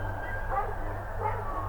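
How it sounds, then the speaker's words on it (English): A retired Belgian Malinois police dog barks twice, somewhat distant and muffled, beneath a steady low background rumble. "It's a retired canine barking at it because that Malinois is used to working"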